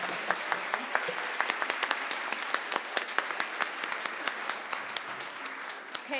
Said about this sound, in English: can we have another round of applause for our wonderful keynote and moderator?